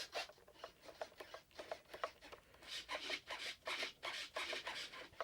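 Small servos on a HobbyKing Avios Twin Otter 1600mm RC plane drive the control surfaces in quick repeated bursts, a series of short buzzing whirs with brief pauses, close and fairly quiet.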